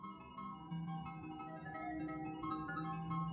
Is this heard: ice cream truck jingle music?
yes